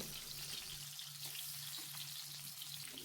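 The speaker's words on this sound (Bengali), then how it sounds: "এই সর্ষের তেলে আমি আলুটা ভেজে নেব" Small potatoes frying in mustard oil in a wok over high flame, a continuous close, soft sizzling hiss with faint crackles and no voices.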